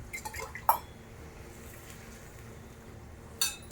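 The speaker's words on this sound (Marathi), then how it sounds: "पाणी टाकले मी थोडं गिलास भरून जास्त नाही" Water from a glass is poured into dal cooking in a pot, a brief clinking splash near the start and another short pour near the end, close and fairly faint.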